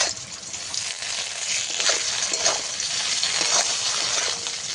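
A ground paste of black pepper, ginger and cumin fries in hot oil for a hilsa fish curry, giving a steady loud hiss and crackle of sizzling throughout, with no voices over it.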